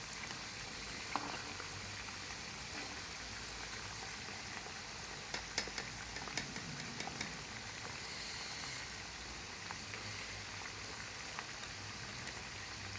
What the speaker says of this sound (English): our potatoes are in the process of frying